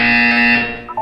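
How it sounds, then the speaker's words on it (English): A loud, steady electronic buzzer tone from the Portal 2 video game, a single sustained harsh hum lasting about half a second before fading into quieter sounds. "When you hear the buzzer, look up at the ceiling."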